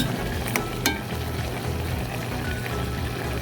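Squid adobo fries in a pan, a loud close sizzle with stirring scrapes and a few sharp ticks of the utensil, continuous throughout with no talk.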